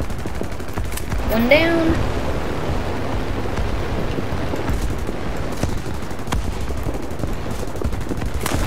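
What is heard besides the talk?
fighter aircraft guns firing in video game War Thunder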